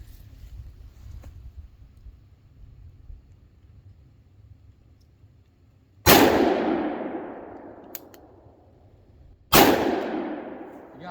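Two sharp, loud reports from a small .410 shotgun at a family shooting range, a few seconds apart, each with a fast attack and a decaying tail, following a stretch of low wind rumble.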